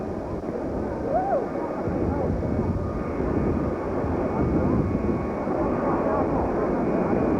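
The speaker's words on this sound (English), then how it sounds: "This is number 2. It's a 707 Astrojet." A Boeing 707 Astrojet airliner at Love Field, Dallas, in 1963 gives a steady, loud jet-engine roar with wind buffeting, a voice faintly audible beneath it.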